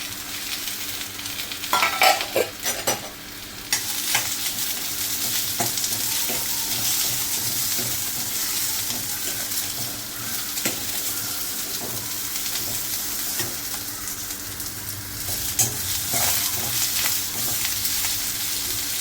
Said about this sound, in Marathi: अद्रक, मिरची, लसूण आणि कांदा थोडंसं भाजून घेते